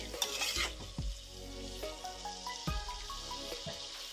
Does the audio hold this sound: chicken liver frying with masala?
yes